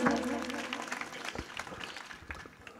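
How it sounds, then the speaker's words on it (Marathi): An audience claps at a Marathi kirtan, a lively burst of many hands that follows a brief sustained tone and gradually thins out, loud at first and fading toward the end. "जोरदार टाळी वाजवा."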